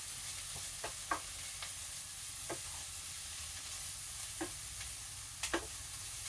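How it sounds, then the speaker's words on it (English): Country ham and collard greens sautéing in a shallow pan give a soft, steady sizzle, broken by several sharp scrapes and clinks of a utensil stirring at irregular moments, with no talking. "So a little more saute on there."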